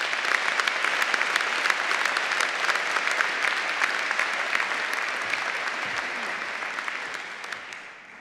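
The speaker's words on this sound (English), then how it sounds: "let's give them all a round of applause" Sustained, dense applause fills a university graduation ceremony hall as the audience claps for graduates' friends and family, steady and loud for several seconds before tapering slightly at the end.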